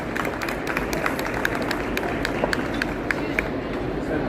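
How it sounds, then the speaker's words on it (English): Applause from a conference audience at an industry show, a dense steady patter of clapping over crowd murmur, moderately loud and continuous throughout with no single voice standing out. "Round of applause, everyone."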